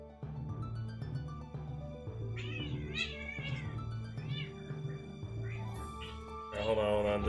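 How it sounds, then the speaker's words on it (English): Two male cats fighting, trading loud, drawn-out yowls and wails close by, rising and falling over several seconds and swelling toward the end, with a voice breaking in now and then. "There's some cat fighting going on."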